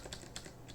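Keys clatter on a computer keyboard while code is typed, a few quick, light clicks in an irregular rhythm, faint and close with no talking.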